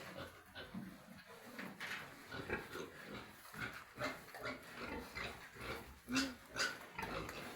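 Piglets on a farm give soft grunts, close by, in an irregular stream of short low snorts and grunts that carries on throughout without talk.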